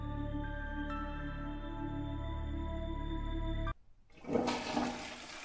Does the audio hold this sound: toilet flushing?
yes